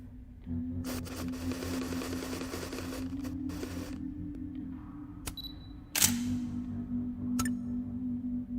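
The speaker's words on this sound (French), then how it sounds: "Prends-moi une photo du visage, là." In Life is Strange: Double Exposure, the in-game camera shutter clicks sharply while taking a photo of a face. A few crisp snaps and a whirring advance stand out over a low, steady game ambience.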